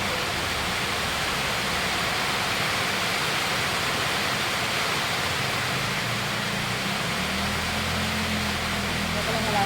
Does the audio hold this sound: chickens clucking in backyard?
no